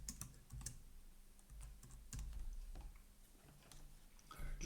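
A computer keyboard clicks softly and irregularly as a short message is typed, the keystrokes faint and close over low room noise.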